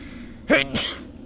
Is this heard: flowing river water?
no